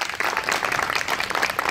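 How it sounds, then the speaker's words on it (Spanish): Guests at a baby shower give a loud, close burst of clapping, a brisk crowded patter of many hands that stays strong and even across the whole short stretch. "Denle un fuerte aplauso a María Julieta"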